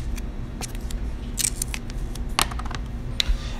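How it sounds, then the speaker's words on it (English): Paper tape is pulled and pressed onto the back of a paper drawing viewfinder, giving scattered crisp tearing and crinkling bursts over a steady low room hum, close and moderately loud. "so let's go ahead and tape the back as well."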